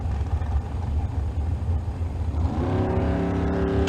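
Red and black dragsters roar at a Tucson Dragway bracket race, a loud dense engine blare that climbs into a rising revving whine as the cars launch, with no voices over it.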